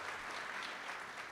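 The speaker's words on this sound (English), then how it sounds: "yeah, clap for that." A brief burst of faint, distant audience clapping at a women's rights event, a soft, even patter with no voices over it.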